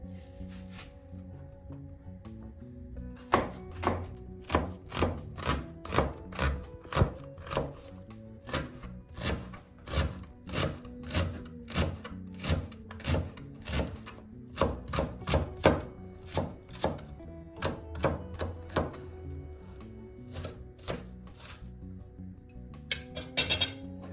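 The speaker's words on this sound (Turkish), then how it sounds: "soğanlarımızı ince kıyacağım" Onions chopped finely with a knife on a board for a Turkish mallow (ebegümeci) olive-oil dish, a long run of rapid, close, crisp knife taps in bursts, loud and alone with no talk.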